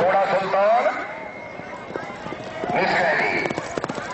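Horses gallop in a race at a neza bazi festival in Mandi Bahauddin, their hoofbeats a rapid clatter running beneath a loud announcer talking through a public address system.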